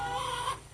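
A chicken gives a short, close cluck inside a backyard chicken coop, a single brief call that fades quickly.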